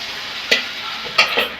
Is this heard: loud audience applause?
no